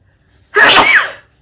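One loud, close sneeze bursts out of silence, sharp and breathy, lasting under a second.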